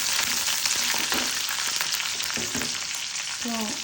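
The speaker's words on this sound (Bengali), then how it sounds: "পেঁয়াজটা লাল হয়ে আসুক, লাল হওয়া পর্যন্ত আমরা অপেক্ষা করব" Sliced onions fry in oil, browning for a laittya fish curry, with a steady dense sizzle and a few utensil scrapes and clinks, close and continuous.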